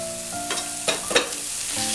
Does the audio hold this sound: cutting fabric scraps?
no